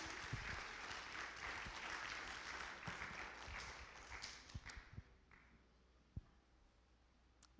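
Church congregation applause following a bilingual Spanish-English sermon, a loud wash of clapping that fades after about five seconds into a few scattered claps and thumps.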